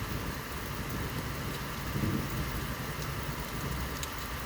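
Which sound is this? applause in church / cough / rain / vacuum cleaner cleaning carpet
rain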